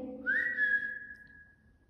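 A single person whistles one sustained note that starts with a short rising swoop, then holds steady and slowly fades, heard close and alone over faint low background hum at a nighttime fort.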